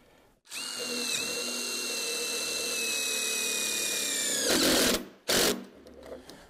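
A cordless power drill drives screws through the side holes of a post for perimeter box beams, a sustained whining run of several seconds followed by two short bursts as fastening finishes, close and loud.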